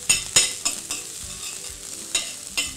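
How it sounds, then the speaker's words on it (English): Green onions sauté in olive oil in a preheated skillet, a bright continuous sizzle broken by several sharp stirring scrapes, close and loud with no voices. "And we'll saute"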